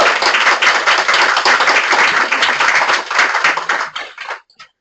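After a talk, the audience claps loudly and close by in a thick, continuous burst for about four seconds, then the applause quickly thins to a few scattered claps and stops.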